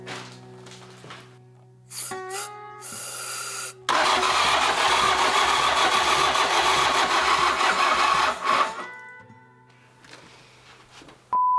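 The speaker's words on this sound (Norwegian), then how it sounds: "Motor starter." Hyundai H100 van engine cranking with a few short starter bursts, then catching and running loud and rough for several seconds before settling to a quieter idle, heard up close.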